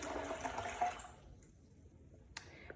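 Filtered water poured into a blender with soaked almonds for homemade almond milk, a soft close splashing pour for about a second, followed by quiet and a faint drip or clink.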